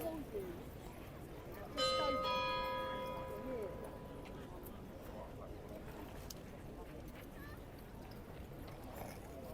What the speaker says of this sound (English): So that chime signals halfway through the waiting process.